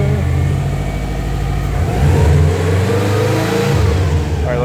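A Subaru WRX fitted with an Invidia and HKS exhaust runs close by, its engine rumbling loudly and rising in a couple of sharp revs before settling back, with no talking over it.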